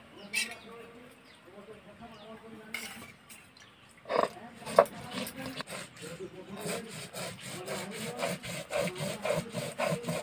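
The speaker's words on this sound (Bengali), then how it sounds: "কাঁকড়ার টকের জন্য আমি সাদা সরষা বেটে নিচ্ছি এখানে" White mustard seeds are ground on a grinding stone, rhythmic rubbing and scraping strokes that grow steadier and louder in the second half, with a few knocks and faint background sounds.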